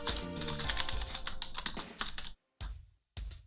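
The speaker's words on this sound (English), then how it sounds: "Keyboard noises." A computer keyboard clatters with rapid, close keystrokes in a dense run, then stops, followed by two short isolated bursts of typing.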